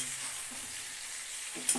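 Brinjal frying in a pan gives off a soft, steady hiss and sizzle for a couple of seconds, with a faint clink near the end and no talking.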